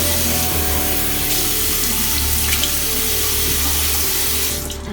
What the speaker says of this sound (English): I'm going to make the water just kind of lukewarm,